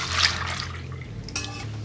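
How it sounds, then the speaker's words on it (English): Melted soy candle wax poured from a pan into a container, a brief close liquid pour with a light clink of the pan, no talking. "my first pan of wax is melted, and I'm going to just pour that into this container"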